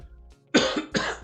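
Two harsh coughs in quick succession, close and loud, the second a little shorter, following a faint throat noise at a wine tasting.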